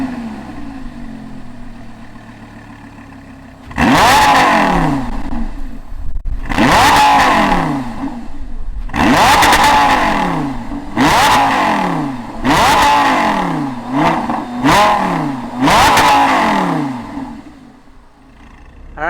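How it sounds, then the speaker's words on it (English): A 2013 Lamborghini Gallardo LP560 fires up loud and close, then blips its engine through six or seven sharp, rising revs with brief dips between, each one snarling before settling back toward idle. "Let's fire up this Gallardo LP560 and hear what it sounds like"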